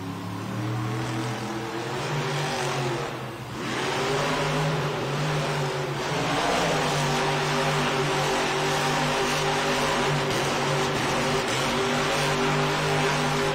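Earthshaker, a dump-truck-styled monster truck, revs its big engine at a Monster Jam arena event in Los Angeles, a loud sustained roar that dips briefly, then climbs and holds steady with a throaty drone throughout.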